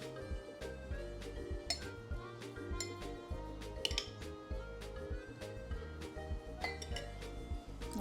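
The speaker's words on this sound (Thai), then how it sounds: "จะตักตัวสเปซชาไทยนะคะลงในแก้วค่ะ" Thai tea powder is scooped into a glass, giving a quiet, steady run of small clinks and taps of a utensil against glass, with no talking.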